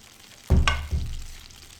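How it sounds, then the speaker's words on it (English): Butter sizzles in a hot pan, a soft crackling hiss that starts abruptly, with a brief clatter, then settles into a steady fizz. "can hear my butter sizzling."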